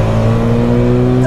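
A 600 hp Volkswagen Golf GTI with an external wastegate and all-wheel drive pulls hard in second gear, its engine a loud, close, rising drone for a brief burst.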